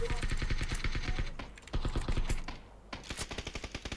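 Rapid automatic gunfire rattles in an action video game, dense bursts of evenly spaced shots with a short lull midway before another sharp volley, loud and close.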